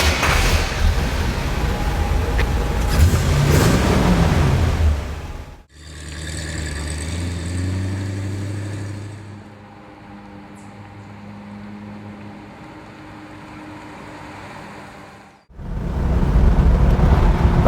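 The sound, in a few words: 1966 Corvette Stingray engine starting and revving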